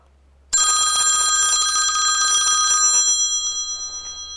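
A bell telephone rings with a loud, sustained metallic trill that starts abruptly and holds for a couple of seconds before decaying, alone over a low steady hum.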